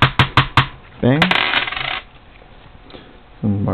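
Coins dropped onto the screen of a Dell Venue Pro phone: four quick, sharp metallic clinks, then a denser clattering burst that rings out and fades, with another clatter at the end.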